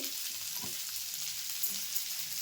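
Sounda fish frying in a pan on a gas stove, an even, close hiss of sizzling oil with faint crackles, steady throughout and with no voices.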